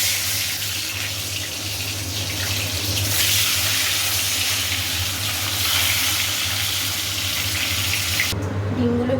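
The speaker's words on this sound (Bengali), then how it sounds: "চলুন আগে ডিমটা ভেজে নিই।" Eggs frying in oil in a pan make a constant, fairly loud hiss and sizzle that runs steadily before cutting off suddenly near the end.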